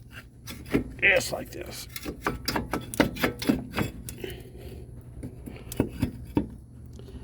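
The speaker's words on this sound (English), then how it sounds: "once you take those bolts out, this caliper should come right out" Metal brake parts clunk and scrape as a caliper comes off a Jeep Cherokee XJ, a series of sharp knocks and rubbing sounds close by, with someone speaking briefly over them.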